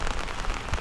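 Steady rain falls on a farm compound, a dense, close patter of drops on surfaces with a few heavier splats, continuous and without voices.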